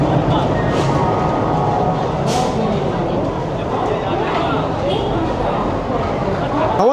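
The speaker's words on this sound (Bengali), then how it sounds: "আর নির্ধারিত টাইম থেকে কিন্তু আমাদের ট্রেন ছেড়ে দিল প্রয়াগরাজের উদ্দেশ্যে" Indian passenger train Netaji Express 12311 pulls out toward Prayagraj, a dense rumbling wash of rolling wheels and carriage noise with crowd murmur and a faint dog bark, loud and continuous throughout.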